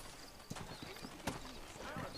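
Horse hooves clip-clop in Red Dead Redemption, a quick run of soft, evenly spaced hoofbeats under a low background, with the horse whinnying faintly.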